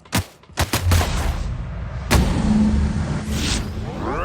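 Gunfire in The Outer Worlds video game: several sharp shots crack in quick succession, then another loud blast. A sustained rumble and a whooshing sweep follow.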